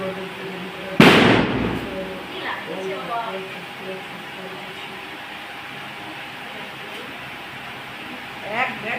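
A single loud firecracker bang goes off nearby during a festival, followed by quieter crackles and a long stretch of background murmur and ambient noise.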